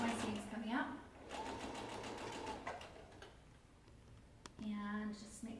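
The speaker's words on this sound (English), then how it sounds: "I'm going to go ahead and back stitch just because I don't want my seams coming out." A sewing machine back-stitches the raw edges of a fabric face mask, running in a steady buzzing burst with a brief stop and restart, while a person talks over it.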